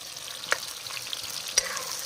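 Onions sizzle steadily in hot oil, a constant crackling hiss broken by a couple of sharp stirring scrapes, close up with no talking.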